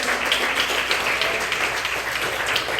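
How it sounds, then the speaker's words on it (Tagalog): Congregation applauding in praise during a church worship service, a steady wash of many hands clapping together throughout, fairly loud with no talk over it. "tayo muna pumalakpak sa ating mahal na Panginoon"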